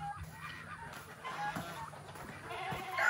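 A goat bleats amid a busy farmyard din, with chickens clucking nearby and a constant background hiss.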